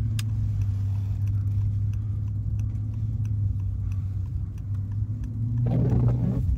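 A Mercedes S65 AMG on summer tires cruises slowly along a snowy road, its engine giving a steady low rumble from inside the cabin that rises slightly near the end, with no talk.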